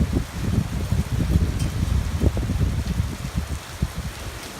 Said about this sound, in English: This gentle desert thunderstorm.